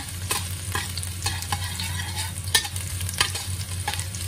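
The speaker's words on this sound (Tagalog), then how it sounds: "Magisa na tayo ng sibuyas at bawang." Onion and garlic sauté in a hot pan, a steady soft sizzle punctuated by repeated scraping stirs and clinks of a utensil at close range.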